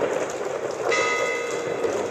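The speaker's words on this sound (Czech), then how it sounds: "voda ještě nestihla opadnout a už opět hustě prší" Heavy rain pouring during floods in the Jeseník region in 2009, a dense, steady hiss of rainfall with a faint ringing tone entering partway through.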